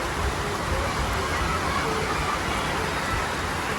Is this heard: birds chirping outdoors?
no